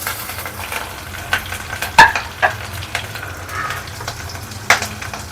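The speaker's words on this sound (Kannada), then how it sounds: "ಎಣ್ಣೆ ಒಳಗೆ ಫ್ರೈ ಆಗಿಬಿಟ್ಟಿರ್ತಾವೆ ಮೆಣಸಿನ್ಕಾಯಿ" Green chillies fry in hot oil in a pan for fried rice, a steady soft sizzle broken by several sharp scraping stirs of a spoon against the pan, close and without talk.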